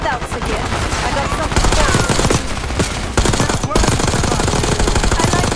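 Sustained automatic gunfire in the Call of Duty Black Ops 6 video game, loud rapid bursts filling the whole stretch with dense overlapping shots and only brief gaps.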